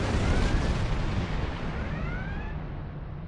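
Ship weapons in a Star Trek space combat video game roar in a continuous, heavy rumbling barrage with faint whistling streaks overhead, loud and sustained before slowly thinning out.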